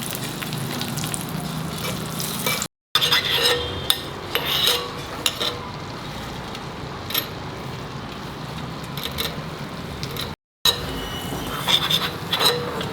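Bottle gourd halwa roasting in a pan on a very low flame, a steady gentle sizzle with occasional scrapes and clinks of a stirring spoon, close up, broken by two short cuts to silence.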